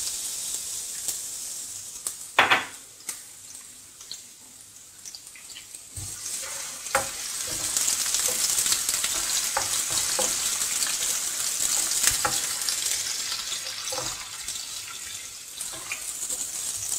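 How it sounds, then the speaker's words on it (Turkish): Chopped onions sizzle and crackle steadily in hot oil in a heated pan, with occasional scraping clinks as they are stirred, continuing for the whole stretch without talk. "Önce yağımızı koyuyoruz. Tavamız ısındı. Hemen soğanlarımızı ilave ediyoruz."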